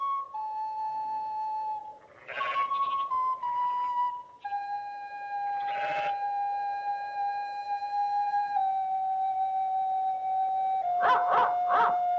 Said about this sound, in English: Oh, I always hoped there would be dogs.